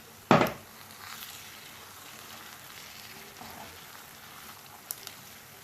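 Green peas and rice cook in a pan for Italian rice balls, giving a soft, steady sizzle that opens with a sharp utensil clatter and ends with a faint tap.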